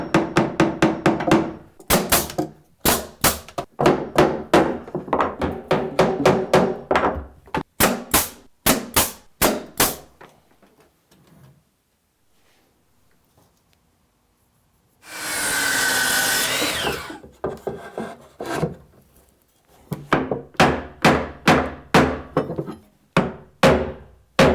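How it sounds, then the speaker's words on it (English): Brad nails are driven into hardwood flooring on a mudroom bench seat in rapid runs of sharp, loud cracks, separated by quiet gaps and a short burst of hissing air. "I'm just going to sneak some brad nails in the back"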